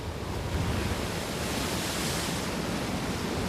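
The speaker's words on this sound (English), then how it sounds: "Torrential rains and destructive winds begin to build on shore." Typhoon Unsang's destructive winds and pounding Pacific surf striking the Philippine shore, a dense, loud, unbroken roar of wind and crashing water with no pauses.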